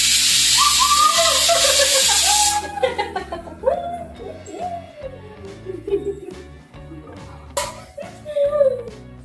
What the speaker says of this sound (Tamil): 3 விசில்ஸ் வந்துடுச்சு. இப்போ ஆஃப் பண்ணிக்கலாம்.